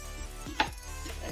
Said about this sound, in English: Cutting up my onions